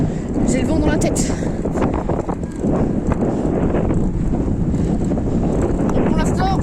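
Strong wind rushes and buffets across the microphone on a moving boat, a loud, steady roar that stays constant throughout, with people talking over it.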